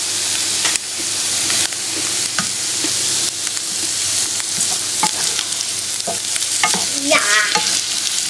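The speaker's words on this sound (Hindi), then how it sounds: "इसको थोड़ा सा फ्राई करेंगे" Chillies frying in a pan with steady broadband sizzle throughout, punctuated by irregular scrapes and clinks of a spoon stirring, close and fairly loud with no talking.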